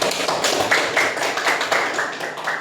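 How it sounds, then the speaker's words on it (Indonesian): A group of eighth-grade students applauds in a classroom, a dense, steady patter of many hands clapping close by for a few seconds. "Oke, tepuk tangan kelompok 2."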